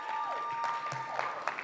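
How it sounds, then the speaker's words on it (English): Brief, moderate applause from a conference audience at a summit, a patter of clapping from a crowd with faint voices mixed in. "everyone here clapping for you"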